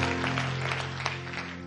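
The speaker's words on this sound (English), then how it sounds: "give God a hand clap of praise in this place" Church congregation clapping together in praise, a steady wash of many hands over a low sustained organ or keyboard hum, moderately loud and continuous throughout.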